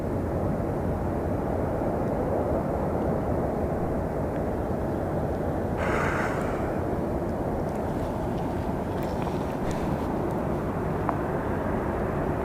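A WestJet airliner lands at Phoenix Sky Harbor Airport, producing a loud, steady broadband jet roar that holds for the whole stretch, with a brief brighter swell partway through.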